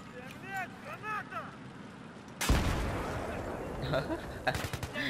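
Gunfire and explosions in the Battlefield 3 video game break out suddenly partway through and stay loud and continuous, with excited voices shouting before and over it.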